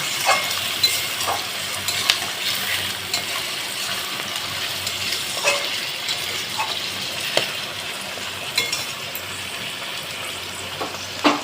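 Onion and mutton fat fry steadily in a pan, giving a continuous close sizzle with occasional stirring clicks and scrapes throughout, with no voices.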